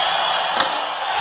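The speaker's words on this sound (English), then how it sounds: "Joseph asking for noise from the crowd." A basketball arena crowd at a Carolina–Miami game roars during free throws, a steady dense wall of cheering and shouting with one brief louder swell.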